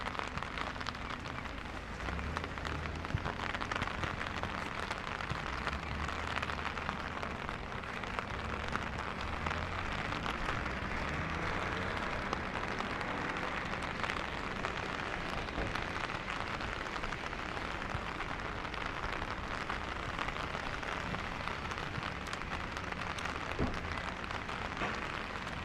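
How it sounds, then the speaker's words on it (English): Rain on a rainy day in Jozankei, a soft continuous patter of drops on nearby surfaces, fairly quiet and even for the whole stretch, no one speaking. "What a lovely, lovely rainy day."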